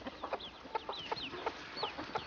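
A hen clucking while defending her chicks: rapid, agitated clucks in a steady stream at moderate distance, with a few higher chirps from the chicks mixed in.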